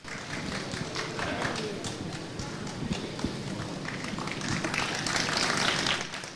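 Loud, sustained applause from a crowd at the Power Parents Award 2023 ceremony as honourees come on stage for a crest presentation, steady dense clapping that swells toward the end, with voices mixed in.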